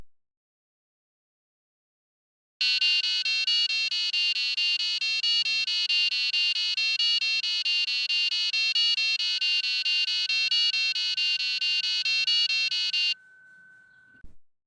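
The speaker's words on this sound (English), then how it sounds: "You can hear the Stranger Things melody being played by the buzzer." A passive buzzer module driven by an STM32 microcontroller plays the Stranger Things melody as a rapid, steady run of shrill electronic tones, loud and alone, ending with a brief lingering note.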